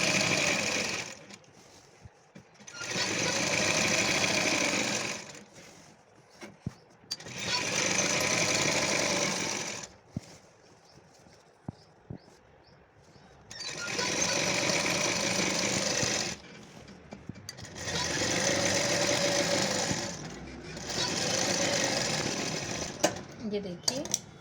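Sewing machine stitching the straight panels of a can-can skirt together, loud mechanical whirring in five long bursts separated by short quiet pauses.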